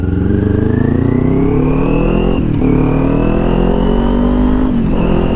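A Kawasaki Ninja 400 fitted with a LeoVince LV-10 exhaust rides along, its deep bassy engine droning loud and close, pitch climbing through gears with brief dips at two shifts.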